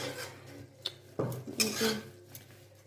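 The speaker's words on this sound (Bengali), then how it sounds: "দেখো, এখন মশলা কষানো হচ্ছে" Spices being fried and stirred in a pan for ghugni, with scattered metallic scrapes and clinks of a utensil against the pan over a low background hum, close and moderately loud.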